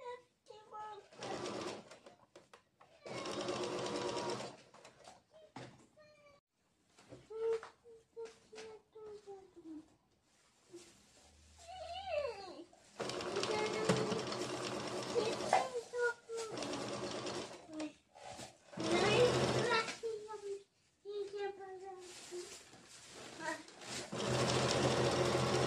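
Sewing machine stitching the length of a dress in bursts of rapid mechanical whirring, several long runs separated by pauses, close by, with someone speaking between and over the runs.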